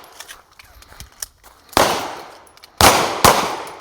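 A first-time shooter fires a pistol: three sharp, loud shots with short ringing tails, the second and third close together, separated by quieter handling noises and faint background sounds.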